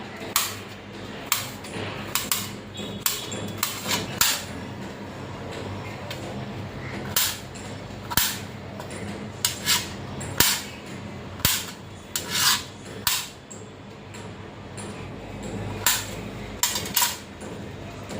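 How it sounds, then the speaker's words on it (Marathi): A knife chops ridge gourd into pieces on a board, giving a run of crisp, evenly spaced cuts at close range with no talking. "छान असा दोडका कापून घेतलेला आहे"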